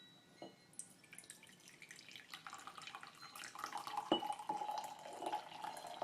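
Green tea poured from a small one-cup teapot, a light trickling stream with drips that grows steadier toward the end, close and fairly quiet, with no one talking.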